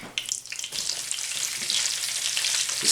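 Onions fry loudly in a pan of chicken marinade, a dense crackling sizzle that swells after an opening clatter and stays constant and close throughout.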